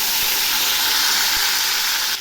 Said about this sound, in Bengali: এখন আমি ওই তেলে পেঁয়াজ বাটা রসুন বাটাটা দিলাম।